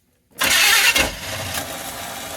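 A 1985 Chevy C-20 square body pickup engine is cranked by its starter and catches abruptly, a loud burst that settles into a rough, steady idle.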